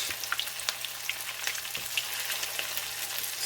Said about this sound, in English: frying this chicken wings in a medium heat